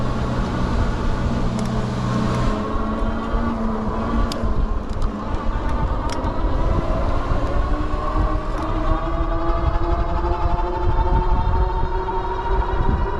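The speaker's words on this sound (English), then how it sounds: "This car comes over that hill." A car approaching over a hill on a road while riding an e-bike, heard as a continuous loud rumble of engine and rolling noise mixed with wind, gradually shifting pitch as it nears, no talk.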